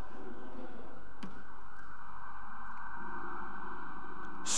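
A steady, wailing siren drones continuously in the background, holding a high tone with a slight shift partway through.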